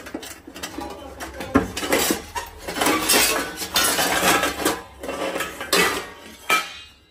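Metal pots and utensils clatter and clink at close range as cooking vessels are picked up and shuffled about, in bursts of ringing knocks and scrapes.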